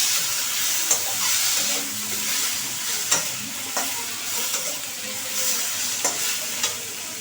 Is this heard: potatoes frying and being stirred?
yes